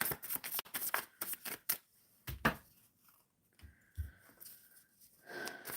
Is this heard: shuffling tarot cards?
yes